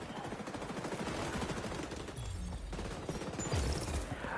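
Gunfire in a Ubisoft shooter game, rapid automatic bursts rattling steadily at moderate loudness with a few heavier shots near the end, no voices over it.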